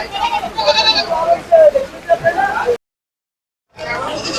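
Goats bleat repeatedly in wavering cries at a livestock market, overlapping with busy voices nearby, then a second of dead silence before the noisy crowd returns.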